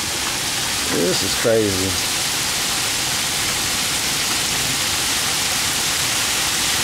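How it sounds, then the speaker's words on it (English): A dense, constant rattling hiss of hail pours down throughout, with a person speaking briefly over it early on. "First is snow, now it's this hail."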